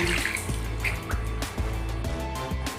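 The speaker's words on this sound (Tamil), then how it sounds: "எல்லா துணியுமே ஊற போட்டுடணுங்க" Clothes being pushed down to soak in a tub of water mixed with detergent, with splashing, sloshing and dripping close by, punctuated by a few soft thuds.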